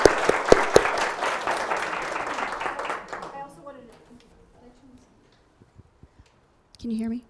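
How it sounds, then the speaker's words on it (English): Audience at a superintendent's parent forum applauds student worker interns, a full burst of clapping that tapers off over a few seconds, followed by quiet room noise and then a brief spoken voice. "So let's give them a round of applause."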